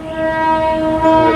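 Train horn blowing loud and steady by the ruins of Winyah High School in Georgetown, South Carolina, a sustained harmonic blast filling the whole moment as the train passes close by.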